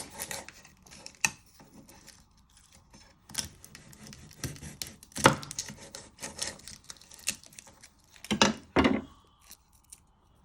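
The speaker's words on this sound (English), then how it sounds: "Then you want to chop the ends off." A knife chopping the ends off garlic cloves on a board, scattered close sharp clicks and taps at uneven intervals, with a louder cluster of cuts near the end.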